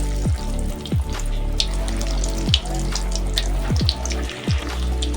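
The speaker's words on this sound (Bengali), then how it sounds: "তো এটা ডিপ ফ্রাই করতে হবে" Steady crackling sizzle of vegetable chops deep frying in hot oil, with a few sharp thumps and clinks of utensils over the bubbling.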